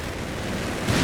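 Gunfire and explosions from a Company of Heroes 3 skirmish between Wehrmacht and US forces: a dense, steady wash of distant battle noise with a heavier burst near the end.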